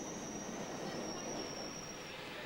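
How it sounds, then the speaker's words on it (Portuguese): A London Underground train running on its rails, a steady loud rumble with a sustained high-pitched wheel squeal over it, unbroken throughout. "Este é o Underground de Londres, que é o maior e mais antigo sistema de metrô do mundo."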